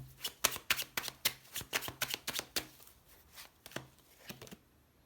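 Tarot cards are shuffled and laid down on a table, producing a rapid run of crisp slaps and flicks that slows to a few sparser taps, close and moderately loud with no talking.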